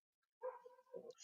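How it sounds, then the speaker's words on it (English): A dog gives a short, faint bark and whimper indoors, one brief outburst lasting under a second. "Sorry for the dog barking."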